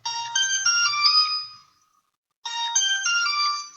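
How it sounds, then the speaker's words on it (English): A melodic phone ringtone plays twice, a bright chiming pattern repeating after a brief pause, loud and close with no talking. "My phone is ringing."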